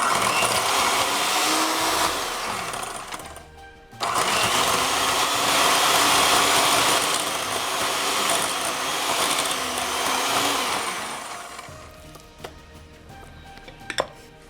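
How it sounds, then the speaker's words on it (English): Electric mixer whirring through almond cookie dough, a steady loud motor drone with a brief pause, then resuming before trailing off with a few clicks. "Okay, I'll just use my mixer here."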